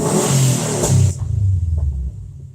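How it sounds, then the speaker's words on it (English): A tuned car engine revs up hard, then drops back toward a lower rumbling idle, loud and close, with no talk over it. "Let me give it a couple revs."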